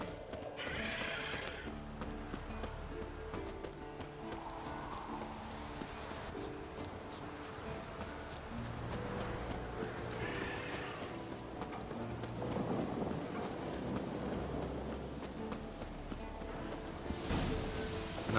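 Rhythmic clip-clop of horse hooves mixed with a couple of whinnies, set against a busy soundscape with background music in the video game The Witcher 3.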